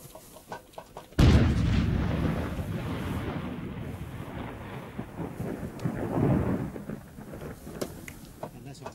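A single loud gunshot cracks suddenly and rolls away in a long, booming decay, with wind buffeting the microphone and a second swell of rumble trailing after.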